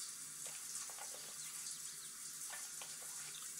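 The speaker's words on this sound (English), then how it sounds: "All right, she's taking her shower." In The Sims 4 video game, a shower runs with a steady hiss of water and a few faint splashes and taps, heard alone at moderate level.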